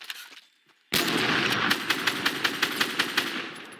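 Rapid automatic gunfire from a video game starts abruptly after a short quiet stretch and holds as a loud, dense burst, with steady rhythmic shot peaks running through to the end.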